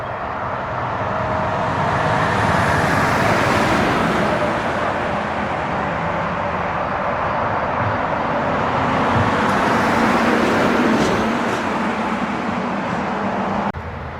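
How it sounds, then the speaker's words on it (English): Loud trucks and traffic on the Pennsylvania Turnpike: a constant, dense roar of passing vehicles from nearby, steady throughout with slow swells as heavy trucks go by, and no talk. "chilling here right next to the Pennsylvania Turnpike. Just enjoying the ambient sounds of loud trucks"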